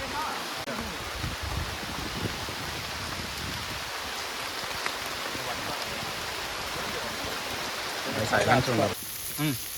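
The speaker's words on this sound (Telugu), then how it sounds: "వర్షం పడుతుంది ఫ్రెండ్స్" Steady rain hisses across the whole stretch, a dense even patter, with a voice briefly rising above it near the end, in Nellore while spicy fish curry is being cooked.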